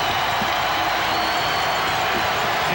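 Basketball arena crowd at the 1992 NBA Finals, Game 5, Trail Blazers vs Bulls, cheering after a three-pointer. A steady, broad roar fills the space throughout, with faint claps mixed in.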